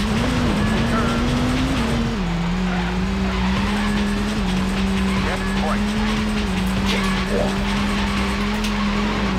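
Racing car from the Nintendo 64 game MRC (Multi Racing Championship) drives with a loud, steady engine drone that shifts pitch as it changes gear, with tire skids and squeals, continuous throughout.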